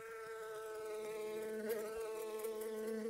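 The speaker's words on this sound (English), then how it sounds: "Oh, can we not have the bees here?" Bees from the Roblox game buzz steadily throughout, a close, continuous droning hum with a sustained tone that wavers slightly in pitch.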